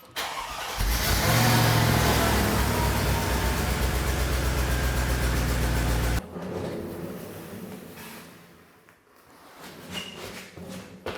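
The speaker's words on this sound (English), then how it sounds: "I did actually develop quite a bit of an exhaust leak" Mercedes SL55 AMG V8 with an exhaust leak, running loud and close with a rough, raspy drone for about six seconds, then cutting off to quiet background with faint rustling.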